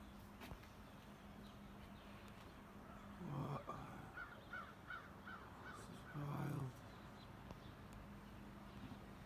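A crow caws outdoors in two short bursts of harsh repeated calls, moderately close, over a quiet background hum with no one talking.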